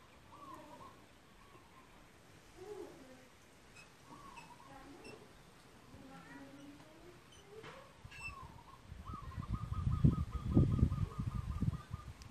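Birds honk in a series of nasal, goose-like calls outdoors in Hawaii, growing louder and more frequent toward the end over a low background rumble.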